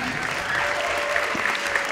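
Audience applause for a slam poet at a library slam poetry competition, a steady, dense wash of clapping filling the room throughout.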